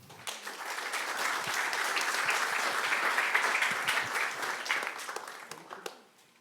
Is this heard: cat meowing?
no